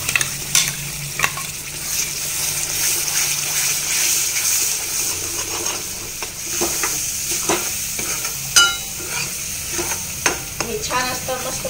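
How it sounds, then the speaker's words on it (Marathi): Spiced masala for a Khandeshi-style eggplant curry frying in oil, a close, steady sizzle with a few scrapes and clinks of stirring. "आता मस्त त्याला तेल सुटलेलं आहे, फ्राय होऊ दिलं त्याला 5 मिनिट।"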